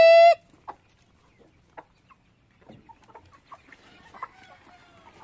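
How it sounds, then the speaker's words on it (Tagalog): Farmyard chickens, including big hens, give soft, scattered clucks and little calls that thicken toward the end, following one loud, brief crow or squawk right at the start. "Pinalabas ni Rico yung mga malaking manok natin."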